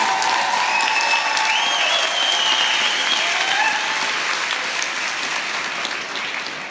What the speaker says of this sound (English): Major round of applause for them.